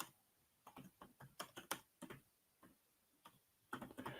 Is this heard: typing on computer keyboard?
yes